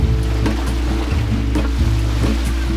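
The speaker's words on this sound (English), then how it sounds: "There's no wind, so we're motoring" A sailboat motoring under engine power on a windless Mediterranean passage, its motor droning steadily and loud, with water washing against the hull and occasional soft knocks, no voices.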